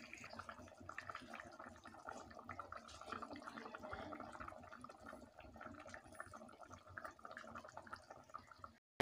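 Rui fish and ash gourd curry broth bubbling in a pot, a soft, continuous burble of boiling liquid at close range, fairly faint and steady throughout.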